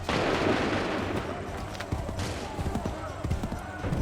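Gunfire in the video game Assassin's Creed 3 comes as muffled battle shots and thumps under a constant noisy din, with voices shouting orders over the clamor.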